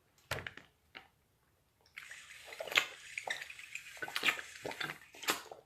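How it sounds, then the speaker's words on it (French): Water pours into a glass in a splashy, trickling stream lasting a few seconds, preceded by light clinks of the glass and bottle, close and fairly quiet, with no talking. "Permettez-moi de boire un peu d'eau."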